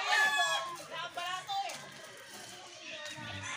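Fighting cocks crow at a game farm, several long harmonic calls overlapping loudly near the listener, with clucking and a voice faintly in the background.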